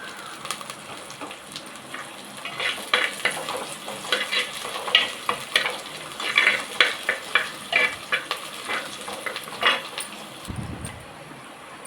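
Dried red chillies and curry leaves crackle in hot oil for a South Indian pepper chicken rasam, a steady sizzle broken by repeated sharp pops and spatters that grow busier midway, with a few stirring scrapes near the end.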